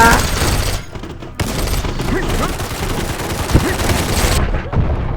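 Dense bursts of automatic gunfire from the Combat Master shooter game keep up almost without pause for about five seconds, loud and close, with brief breaks and sharp single shots mixed into the rattling volleys.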